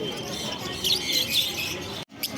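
Budgerigars chirp and twitter in bursts amid a dense background chatter of many birds at a bird market, fairly close.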